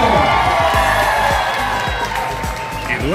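A crowd applauds and cheers to welcome a tribute singer onstage, loud sustained clapping mixed with shouts and whoops from a lively audience, with music or voices faintly underneath.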